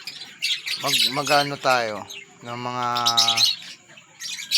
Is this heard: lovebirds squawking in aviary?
yes